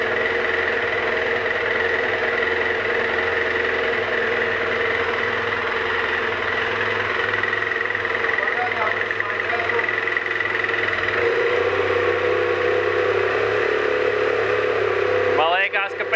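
A gas-powered motorcycle engine idles steadily and continuously up close, a low, even rumble that holds throughout.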